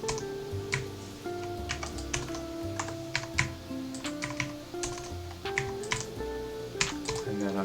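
Steady typing on a computer keyboard while entering JavaScript code, quick irregular key clicks close by, with a voice talking over them.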